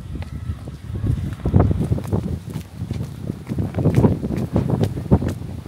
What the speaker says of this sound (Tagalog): The wind, my love, is pushing me.